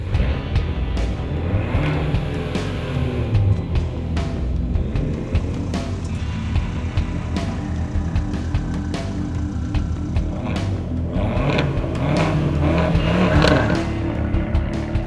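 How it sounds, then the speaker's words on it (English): Fiat 500 Abarth running without a muffler, its exhaust snarling steadily with a dense spread of crackles and pops throughout, loud and close, rising toward the end. "This really doesn't have a muffler, and it's gonna pop and snarl and make all those sounds"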